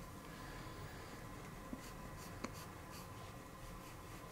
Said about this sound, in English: We're going to sketch the head in.